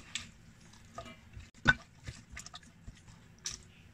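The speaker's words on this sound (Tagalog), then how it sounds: "Lagyan ko ngayon ng sili at spring onion. Yan. Then, hahaluin ko ulit." A spoon stirs chili and spring onion through a cooking dish, giving soft, sparse scrapes and light taps that are quiet and close, with no voices.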